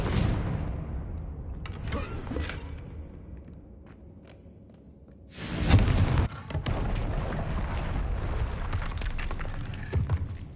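A Confringo blasting spell explodes in Hogwarts Legacy, a sudden loud booming burst after a quieter stretch, followed by lingering rumble and scattered smaller thuds.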